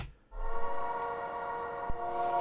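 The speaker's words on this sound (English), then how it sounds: "This is just a layer for the epic pad." A sustained synth pad with steady layered tones holding a bright chord, fairly loud and continuous, with a soft low thump midway.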